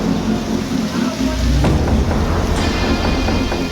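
Heavy rain pours down steadily in Gujarat, a dense, continuous hiss of drops close by, with a few deeper thumps mixed into the downpour.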